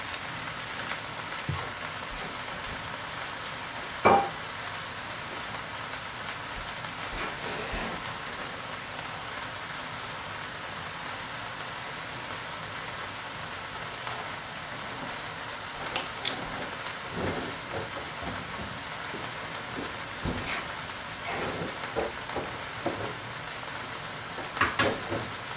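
Bacon sizzling in a pan with bell peppers and jalapeno, a steady fine crackle like rain that runs throughout at moderate level, with a few sharper pops and clatters scattered through it.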